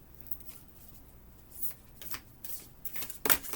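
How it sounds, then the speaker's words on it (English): Oddly shaped cards being shuffled in quick riffling bursts, crisp papery flutters that grow louder and denser toward the end, with no voices. "It's like aerobics for the wrist to shuffle cards that are shaped oddly."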